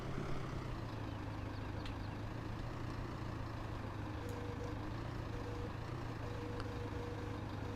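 A Massey Ferguson tractor engine in Farming Simulator 17 drones at a steady low idle, faint and continuous, with small pitch shifts and a few light clicks.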